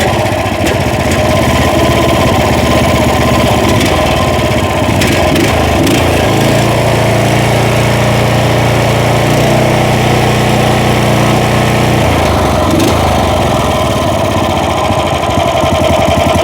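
A small Loncin engine idles steadily and loudly, a continuous rough drone with a slight dip in pitch partway through, no voices.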